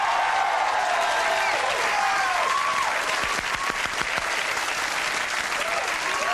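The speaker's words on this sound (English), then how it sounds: "It's nice that the female anatomy gets a round of applause." Studio audience on a late-night talk show bursts into sustained, loud applause that fills the whole stretch, dense clapping with a few whoops and crowd noise, steady from start to end.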